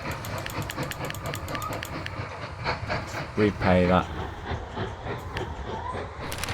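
A train runs on rails in the video game Mashinky, a steady rumble with a faint rhythmic clatter, under a voice.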